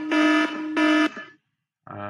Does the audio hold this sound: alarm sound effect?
yes